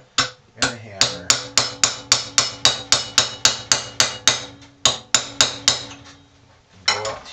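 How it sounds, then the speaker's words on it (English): Hammer beating a chisel to cut through a steel spoon for an arrowhead, a fast, even run of about seventeen ringing metallic strikes, then a pause and one last blow, close and loud. "And do the same exact thing again with the chisel and the hammer."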